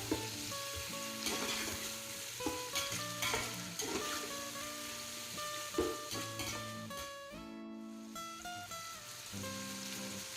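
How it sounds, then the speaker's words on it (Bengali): Onions being half-browned in a pan with whole spices for a Bengali meat hotchpotch; a soft continuous sizzle with occasional stirring clicks, faint and partly buried under steady melodic background music. "দ্বিতীয় পেঁয়াজ পেঁয়াজটাকে আমি বেরেস্তা করবো কিন্তু পুরোপুরি বেরেস্তা করবো না হাফ বেরেস্তা করবো"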